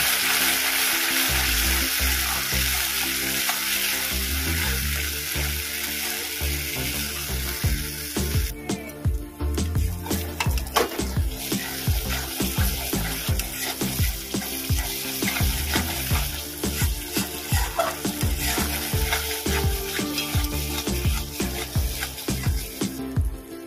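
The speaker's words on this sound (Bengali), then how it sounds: "মশলাটা ভালো করে কষিয়ে নেব" Spice paste frying hard in oil in a pan, a loud continuous sizzle broken by frequent rhythmic scrapes and knocks of stirring, growing busier midway, with no voices.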